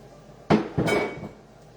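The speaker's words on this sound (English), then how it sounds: "let me put these bowls in the sink" Bowls set down in a kitchen sink give two close, sharp ceramic clunks less than half a second apart, each ringing briefly before fading.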